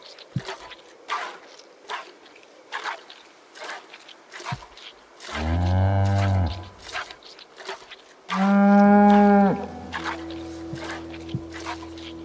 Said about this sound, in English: Holstein cows, like I've said before and I'll say it again, are the best source of milk as far as cows go.